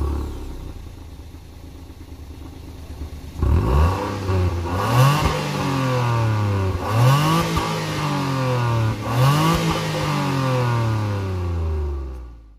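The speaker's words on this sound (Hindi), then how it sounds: "आपको मैं स्टार्ट करके इसका साउंड सुनाता हूँ इंजन का।" A 2019 Suzuki Alto's small engine is started after a quiet idle-like lead-in, then revved in three or four sharp blips that rise and fall, close and clear with no talking.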